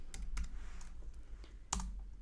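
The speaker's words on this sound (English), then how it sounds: "I traverse into the directory by typing cd space in the name of the directory" Someone types on a computer keyboard, a quiet, irregular patter of key clicks at close range with one sharper keystroke near the end.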